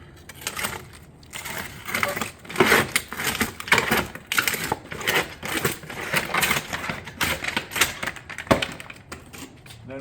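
Bent cottage-style shingle panels being cut for a roof install, a rapid run of sharp, clattering snips and crunches repeating steadily at close range with no talk over them.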